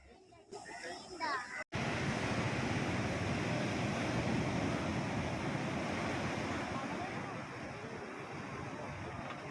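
Sea waves wash steadily onto Kovalam beach after sunset, a dense, continuous roar of surf and wind that rises abruptly after a brief opening of quieter sound and holds its level to the end.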